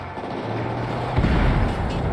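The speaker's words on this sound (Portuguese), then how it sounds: "Aquela explosão foi muito alta." A car explodes in the video game GTA V with a deep booming blast, heavy low rumble swelling midway through the short stretch against a steady game background.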